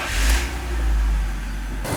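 A BMW engine fires up and revs, a deep throbbing rumble swelling and easing close by, loud and steady over about two seconds with no talk.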